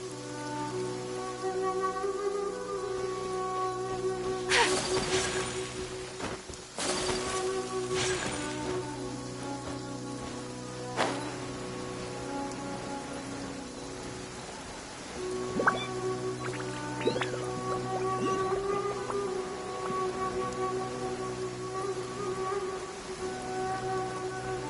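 Steady rain falls in Genshin Impact, a continuous wash of patter and drips across a long stretch with no talk, laid under sustained game music tones and a few louder splashy bursts.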